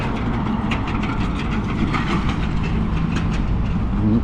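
A train rolls past close by on Rue Notre-Dame East in Montreal's Hochelaga borough, its cars rumbling steadily with a rhythmic clickety-clack over the rails.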